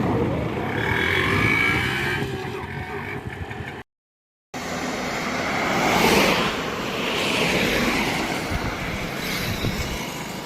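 An auto rickshaw engine runs steadily after starting, a loud rough drone swelling and easing in waves close by, with a brief cut to silence partway through.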